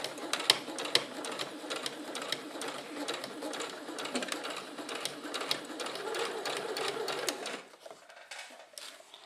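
A domestic sewing machine runs a 0.5 cm seam on fabric in a rapid, steady stitching rhythm, close and fairly loud, then stops abruptly near the end. A faint voice sits in the background.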